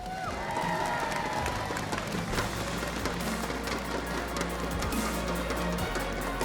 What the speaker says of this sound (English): Once again, a round of applause for our champions